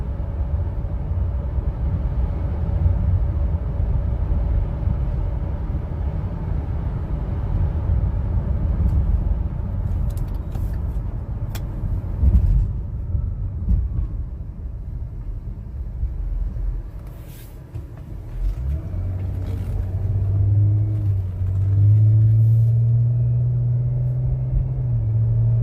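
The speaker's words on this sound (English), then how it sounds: "Drives pretty good. Feels smooth. Going about 45." A 2016 Dodge Grand Caravan RT minivan cruises at about 45 mph, producing a steady low road and engine rumble from inside the cabin, with a brief knock midway and a rising low hum near the end.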